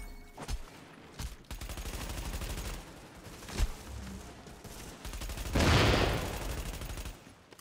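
Rapid automatic gunfire with explosive bullets in the video game The Division, sustained machine-gun bursts broken by brief gaps, ending in a louder blast-like burst near the end.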